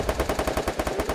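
Automatic gunfire in a video game shooter, a fast, even burst of about a dozen shots over about one second, loud and close.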